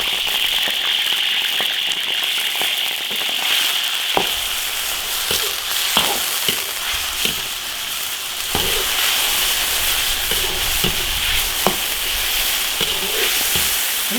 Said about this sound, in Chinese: 牛肉片下锅。